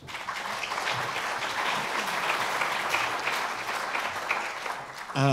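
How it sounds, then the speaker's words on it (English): Sustained audience applause at a neuroreceptor mapping conference, honoring the chairs and speakers; steady dense clapping from a large room, fairly loud and even, ending with a louder burst at the close. "Let's give them a round of applause."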